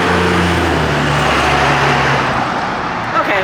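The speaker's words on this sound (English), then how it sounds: "now we got a very loud truck, so give me just 1 second. Very loud pickup truck." A very loud pickup truck passes close by, its low engine roar filling the first couple of seconds then easing into a steady road rumble as it moves away.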